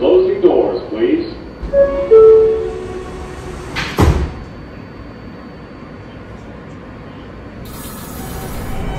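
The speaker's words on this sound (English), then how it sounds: "Stand clear of the closing doors, please." A voice speaks before New York subway G line train doors slide shut with a sharp thud in a video game, followed by a low rumbling hum inside the car.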